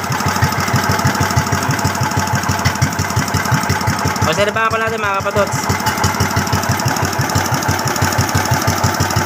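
A freshly repaired engine idles steadily at close range with an even, rhythmic pulsing throughout, while someone speaks briefly over it midway.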